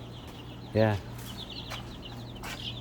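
Chicks at feeding time give a single clear clucking call, with a faint chirp or two after it, against a low steady background hum.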